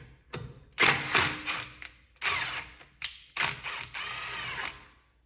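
A hand ratchet clicks in short repeated bursts while tightening and loosening bolts on a side-by-side vehicle, loud and close, with brief pauses between strokes.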